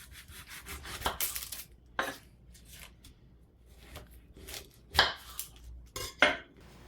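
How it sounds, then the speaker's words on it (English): A knife cutting through an onion on a board, a series of irregular close scraping, rubbing and tapping sounds, with a few sharper cuts and knocks spaced over several seconds. "remove the skin of your onion and cut it in half"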